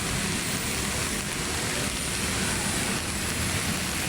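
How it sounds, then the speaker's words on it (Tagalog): Heavy rain pours steadily over traffic at the Masinag overpass, a dense continuous hiss with low rumbling road noise beneath, loud and unbroken throughout with no voices. "Walang kataw-tao kasi po lakas po ng ulan mga kamamo."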